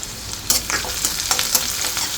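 Green chillies frying in hot tempering oil give a steady close sizzle, with a few brief stirring clicks and pops over it and no talking.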